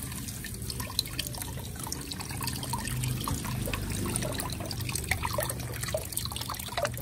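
A scaly cactus is rinsed under a running tap after brushing, giving a continuous close trickle and splash of water with scattered drips throughout.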